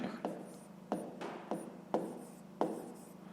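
A pen or pencil scratches across paper while a math solution is written out by hand, with several distinct stroke bursts and taps at irregular intervals under a faint background hum.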